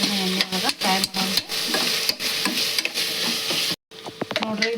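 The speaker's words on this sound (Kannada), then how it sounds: "ಇದು ಟೊಮೆಟೊನ ಎಣ್ಣೆ ಒಳಗೆ ಫ್ರೈ ಆಯ್ತ" Tomato and potato pieces frying in oil in a pan for a pulao, with steady sizzling, stirring and scraping sounds up close and a brief pause near the end.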